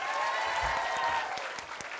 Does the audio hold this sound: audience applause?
yes